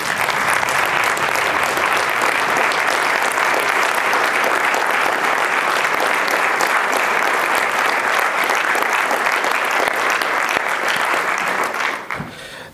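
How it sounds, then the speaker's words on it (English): A standing audience at a 2020 leadership ceremony gives loud, sustained applause, continuous and evenly thick, then it suddenly drops away at the very end. "if I can have everybody stand and please applaud"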